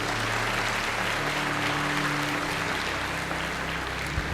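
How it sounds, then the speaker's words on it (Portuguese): A church congregation applauds together during a cold-night evening service, a steady dense wash of clapping that holds at an even level throughout, with low organ or keyboard tones sustained underneath. "Você pode aplaudir mais uma vez a Ele?"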